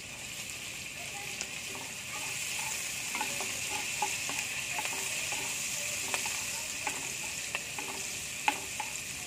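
Chopped garlic, ginger and green chili sizzle in hot oil in a pan, a constant close hiss broken by light clicking scrapes of a spatula stirring throughout.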